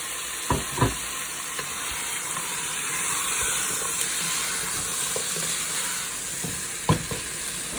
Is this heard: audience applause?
no